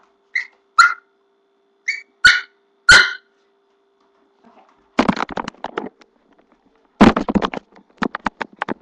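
A dog barks loud and close in a series of sharp bursts, with a few thin whistle-like yelps first, then clusters of rapid barking separated by silence.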